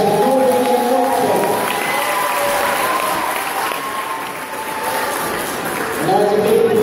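Crowd applause and cheering from an audience at a dance competition, sustained and fairly loud, with a voice speaking over the start and end.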